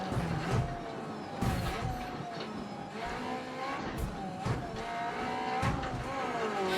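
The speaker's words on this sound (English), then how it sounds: "driving in a rally car, driving in a road as fast or as slow as I'm doing right now" Rally car in the Assetto Corsa Rally video game, engine note rising and falling through gear changes at speed, with sharp gravel knocks and thumps from the road breaking through the steady drone.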